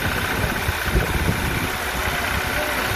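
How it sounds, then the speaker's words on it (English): A car engine idles with a steady low rumble during an engine-cleaning foam treatment, close and continuous, with no voices. "Engine's quieting down a lot."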